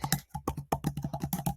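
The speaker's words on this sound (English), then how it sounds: "I'm going to start typing import range" Fingers tap quickly on a computer keyboard, entering a spreadsheet formula in close, crisp clicks in an uneven, rapid rhythm with no speech.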